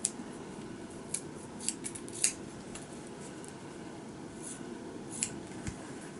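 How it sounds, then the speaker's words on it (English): Scissors snip off excess zipper tape at the corners of a handmade pillow cover, giving a few faint, sparse clicks over a quiet background hum. "So you'll clip off your excess zipper."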